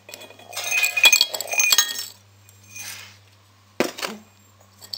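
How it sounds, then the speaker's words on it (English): Glass slag and a gold prill from a smelted blue chip soil sample tumble out of the vessel into a small pan, giving a dense burst of glassy clinks and rattles, then softer scraping and a second sharp clatter over a low hum. "And pour it out into our little pan here."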